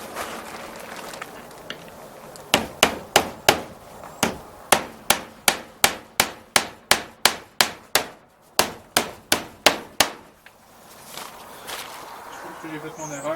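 Hammer blows drive nails into a small wooden molding, a long run of sharp, evenly spaced close strikes with a brief pause midway, over quiet room background.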